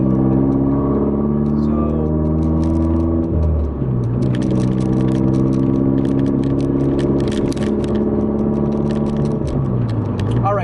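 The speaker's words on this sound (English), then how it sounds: "I'll show you how to quickly real-time downshift now" A manual-transmission car engine hums through a double-clutch downshift from fifth to fourth gear, its steady drone dipping and shifting in pitch as revs change, with faint rattles over the top.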